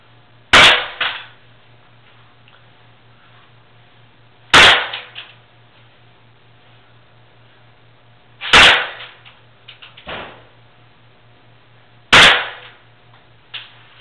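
KWA Glock 19 airsoft pistol fired over a chronograph, four sharp snapping shots spaced about four seconds apart, each followed by a brief rattle, with a faint steady hum underneath.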